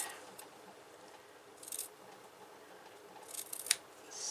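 Scissors snip thread during slow hand stitching of a small fabric box for a tray table cloth, giving a few quiet, brief cuts spaced apart against a soft background hiss.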